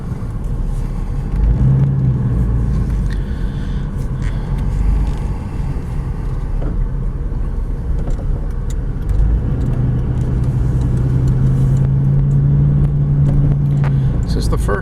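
A 1994 GMC Jimmy SLE 4x4 with the air conditioning running pulls away from idle, its engine giving a steady low rumble throughout as someone talks over it.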